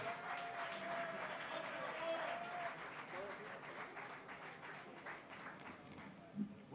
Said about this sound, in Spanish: Por favor, un fuerte aplauso para Rob Castillo.